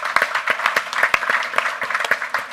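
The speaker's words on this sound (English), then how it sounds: "A round of applause for the Mayor of Alexandria." Audience applause for a city mayor introduced at a morning panel discussion, a brief burst of scattered, moderately loud clapping with irregular sharp hand claps and no voices over it.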